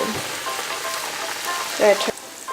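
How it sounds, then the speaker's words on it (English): Oil sizzles and crackles steadily as breaded vegan chicken pieces fry on medium heat, with a soft hissing texture, plus a brief louder bubbling burst near the end. "you just want to fry it on medium heat, or if it bubbles like that"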